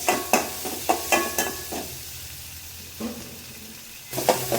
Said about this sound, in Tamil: தக்காளி நல்லா வதங்கிருக்கே